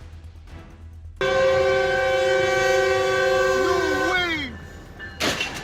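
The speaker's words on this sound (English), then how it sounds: "A semi-truck stuck on the tracks as a train raced toward." A train's horn blares in one long, loud, sustained tonal blast as the train races toward a semi-truck stuck on the tracks. The pitch bends downward as it fades, and a person shouts briefly near the end.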